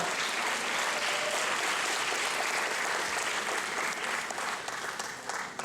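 An audience at a divisional commencement ceremony applauds, a dense, continuous roar of many hands clapping that holds steady and tapers slightly near the end.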